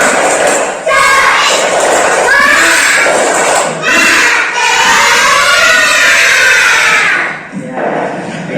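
A classroom of children performs an energetic tepuk semangat clapping chant, with loud rhythmic claps and shouted voices in bursts, close and filling the room, ending with a brief pause and a few stray sounds.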